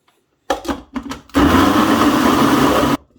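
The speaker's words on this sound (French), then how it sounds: "Voilà, on va tout mixer." A kitchen blender gives a few short stuttering pulses, then runs loud and steady for about a second and a half while pureeing chocolate dessert ingredients, and stops abruptly.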